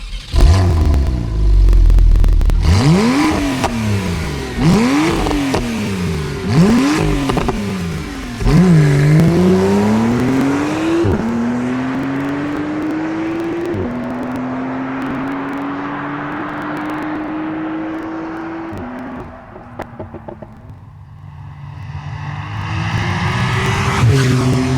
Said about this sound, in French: Et vous allez écouter avec moi le bruit de ma Targa 4 GTS.